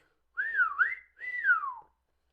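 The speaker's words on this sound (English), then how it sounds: "I prefer my own method of whistling." A person whistles two clear, sliding tones in a row, rising and falling, close and alone in an otherwise quiet room.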